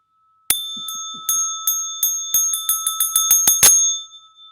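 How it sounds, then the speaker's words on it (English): A small bell used in Zen practice is struck repeatedly, starting with single spaced rings that speed into a rapid series of bright, ringing strikes before fading. "where's the bell?"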